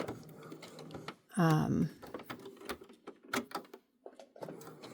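Domestic sewing machine stitching around a fabric piece, heard as one short, close mechanical whirring burst in the middle, surrounded by clicks, handling noises and fabric shuffling.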